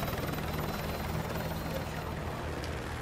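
Helicopter in the Call of Duty: Modern Warfare 2 Campaign Remastered game gives off a low, continuous rotor drone. It stays quiet and steady in the background for a few seconds.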